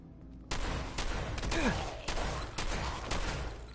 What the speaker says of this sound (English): Oh, we pulling out the shotgun!